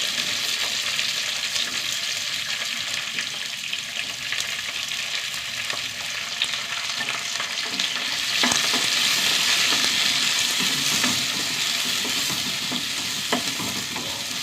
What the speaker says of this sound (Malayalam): കറിവേപ്പില, ഇതിലേക്ക് രണ്ട് സവാള വലിയ കഷ്ണങ്ങളായിട്ട് അടർത്തിയതാണ് കേട്ടോ